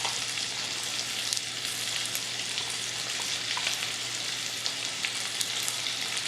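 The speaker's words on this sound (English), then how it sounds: "see how they're all arranged and frying in that oil?" Continuous crackling sizzle of chicken frying in hot oil, dense popping and spitting close up, with no voices.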